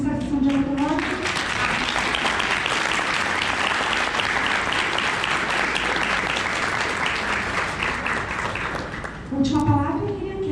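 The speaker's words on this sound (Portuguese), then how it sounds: "vamos de novo chamar aí uma salva de palmas" Sustained applause from an audience at a book launch, steady clapping filling about eight seconds, with brief speech at the start and end.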